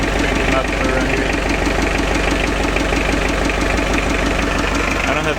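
A 1928 Dodge 124 engine idles through a cherry bomb exhaust, a steady, loud, close rumble with an even pulsing rhythm that holds unchanged for the whole stretch.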